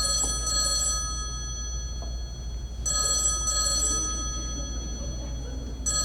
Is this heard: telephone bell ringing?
yes